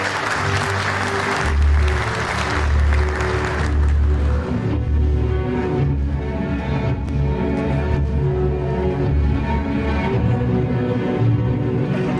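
Audience applause greets the chairman at a DESİAD Anadolu 500 plaque ceremony in Denizli. A burst of clapping fills the opening seconds, then fades as a steady musical tone carries on underneath.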